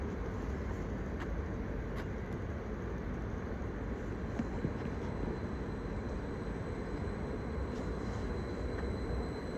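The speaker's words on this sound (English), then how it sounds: "Incoming now is the 1437 Greater Anglia service to Norwich from London Liverpool Street." A Greater Anglia passenger train, a Class 745 electric unit, pulling into Ipswich station, heard as a quiet, steady rumble of wheels and motors with faint clanks, without speech.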